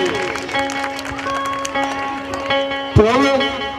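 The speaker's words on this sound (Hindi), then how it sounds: "सभी के लिए एक बार जोरदार तालियां बजानी चाहिए" An audience at a live devotional song show claps loudly and continuously over sustained instrumental tones, with a sharp thump near the end and the crowd noise filling the space.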